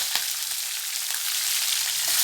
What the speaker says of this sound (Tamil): கடுகு சீரகம்லாம் பொரிஞ்சிச்சு